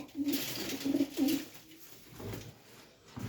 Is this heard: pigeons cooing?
yes